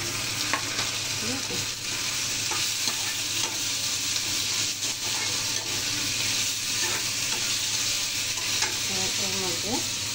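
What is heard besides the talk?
onions and spices frying and being stirred in a pan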